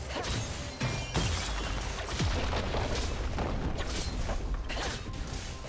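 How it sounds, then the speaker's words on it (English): Turret destruction in a League of Legends match: a dense, continuous crashing roar with repeated booming impacts and debris-like smashes, loud and busy across the whole stretch, with no voices over it. "Blue team's turret has been destroyed."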